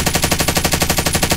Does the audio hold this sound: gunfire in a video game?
yes